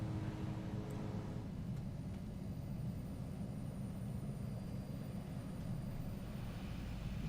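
A light plane drones steadily in Microsoft Flight Simulator 2020 while sliding on ice at Denali base camp, a continuous low engine rumble with no breaks throughout.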